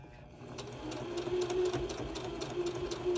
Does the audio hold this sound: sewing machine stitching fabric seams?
yes